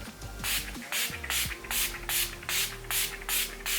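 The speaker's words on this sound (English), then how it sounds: "So I'm going to hold my hair back and spray my face with this." Urban Decay All Nighter setting spray is misted onto a face in about nine quick, even bursts, each a soft close hiss, with a bit of rustling and faint background tones between them.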